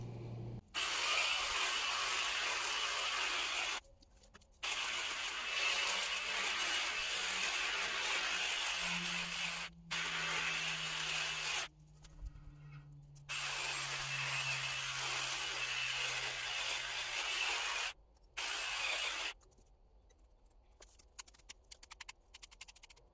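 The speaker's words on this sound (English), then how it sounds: "Let's go ahead and trim up this crazy looking holly." An overgrown holly bush is cut back with a hedge trimmer, which runs in several long, buzzing bursts separated by short pauses, with a low hum sliding in pitch during one stretch.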